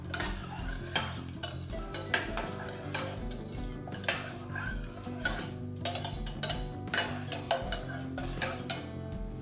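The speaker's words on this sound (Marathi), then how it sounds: "व्यवस्थित मिक्स करून घ्यायचं आहे" Sweet lapshi (broken wheat) is stirred in a pan after hot water is added, giving a steady bubbling sizzle punctuated by repeated scraping clinks of a spoon against metal.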